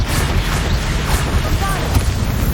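Confringo fire-blast spell in Hogwarts Legacy, a dense booming burst of explosive noise filling the whole moment, loud and close, with a voice calling out over it.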